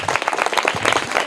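Loud, dense applause from a school audience rewarding a correct quiz answer, rapid overlapping claps filling a brief close burst.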